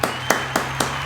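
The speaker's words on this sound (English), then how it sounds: "round of applause." Slow, sharp claps, four evenly spaced, from a lone person leading a round of applause, close and crisp with no crowd joining.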